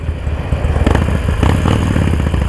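A motorcycle ridden in winter rumbles loud and close, its engine churning with rough clattering pulses and small rises in revs, no voices over it.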